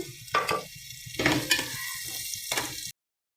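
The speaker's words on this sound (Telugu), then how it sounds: "ఇప్పుడు వేగిన దానిలో ఇప్పుడు మనం వేపుకొని ఉంచుకున్న పచ్చిరొయ్యలని దీంట్లో వేసేద్దాము" Raw prawns frying in ginger-garlic paste in a pan, a close, steady sizzle broken by a few sharp bursts of stirring and scraping before cutting off abruptly.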